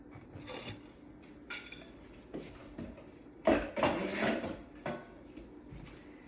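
A two-piece metal tube pan for gluten-free angel food cake being handled, with scattered sharp clinks, clanks and metallic rattles, close and fairly quiet, separated by short pauses.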